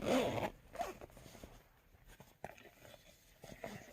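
A zipper rasps open in a quick, close burst at the start, followed by softer rustling and scattered small clicks as the fabric is handled.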